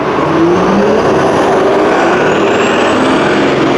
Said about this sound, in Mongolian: Одоо би та хэд Япон автобус үзүүлээ